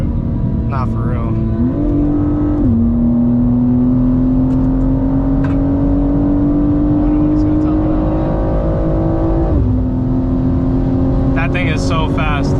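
A BMW G87 M2 cruises at top speed beside a 1000cc superbike: a loud, sustained engine drone holding a steady pitch that creeps slightly upward, with a couple of brief shifts, over constant wind rush.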